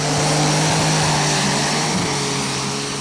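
Dutch-built pulling tractor roaring at full power at a Eurocup tractor pulling final in Brande, Denmark, a loud continuous engine drone that holds steady throughout with no talk over it.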